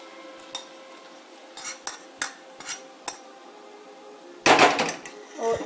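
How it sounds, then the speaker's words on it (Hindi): Spoon stirring hot ghee into atta churma in a metal dish, a few separate scraping clinks, then a louder burst of rattling contact near the end, close and alone. "इसे अब हम चम्मच से मिक्स करेंगे"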